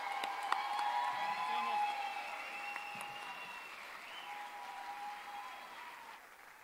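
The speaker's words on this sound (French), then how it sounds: "Je vous invite à avoir un tonnerre d'applaudissements pour tous nos artistes" Audience applause for performing artists at a regional Cégep en spectacle student talent final, clapping with scattered cheers that swells early and then gradually tapers off, with voices mixed in.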